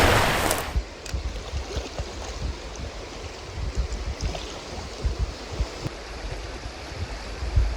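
River water on the Partridge River washes and ripples around a paddled boat, a steady broadband flow with light splashy strokes throughout. A brief louder rush opens the passage, and no voices are heard.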